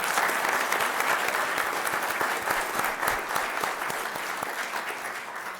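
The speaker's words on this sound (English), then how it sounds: "Can we please give him a round of applause?" Sustained applause from an audience at a city council meeting, dense steady clapping that holds strong and fades slightly toward the end, with no talking over it.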